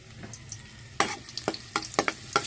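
Oil sizzling in a heated pan, with a faint hiss, then a run of sharp scraping and clinking strokes from a utensil against the pan, close by and with no talking.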